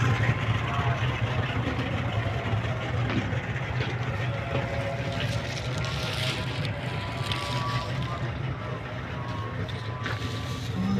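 A large fishing boat engine in Qatar runs with a steady, deep, droning rumble, heard close and continuous under wind buffeting.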